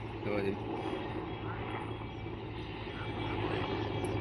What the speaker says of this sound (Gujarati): હેલિકોપ્ટર જોઈ શકો છો આગળ ટૂંક સમયમાં હેઠે ઉતરશે